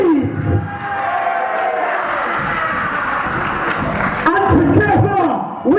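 A live crowd at a UKW Friday Night Showdown wrestling show cheers and roars loudly and steadily throughout, with shouting voices mixed into the din and louder bursts near the start and end.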